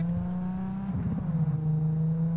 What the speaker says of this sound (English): This car sounds good.